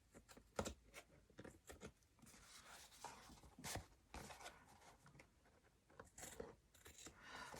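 Quiet snips and rustles of scissors cutting, a few sharp clicks spaced irregularly among soft handling noises, close by.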